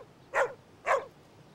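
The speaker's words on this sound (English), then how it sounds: "I can't find the spotted puppy, Mr. Hinkle" Cartoon puppy giving two quick, faint, high yipping barks with a whimpering tone, spaced about half a second apart.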